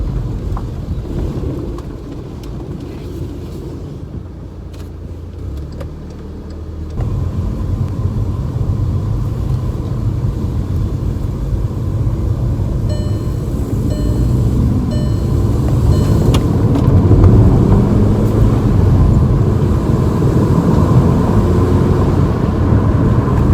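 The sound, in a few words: 2012 VW Golf GTi 2.0 TSI driving on a test drive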